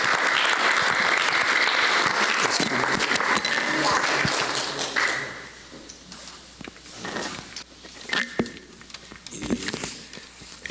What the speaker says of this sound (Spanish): Una gran de palmas.